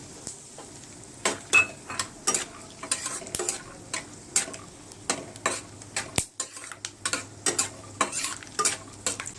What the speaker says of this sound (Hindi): अब हम इसमें मूंगफली दाना डालेंगे और इसे थोड़ा भून लेंगे